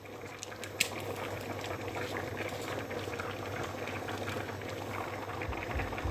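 Brown beans boiling in a pot, a steady low bubbling and simmer that continues evenly throughout, fairly quiet and close with no talking.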